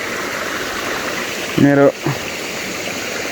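A hill stream swollen with fresh water rushes steadily and evenly, with a brief nearby voice breaking in over the flow.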